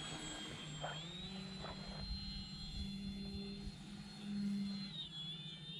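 Hacker XL RC model airplane motor at full throttle, a steady high-pitched electric whine holding throughout with a lower buzzing drone beneath, rising and swelling briefly near the end as the plane passes.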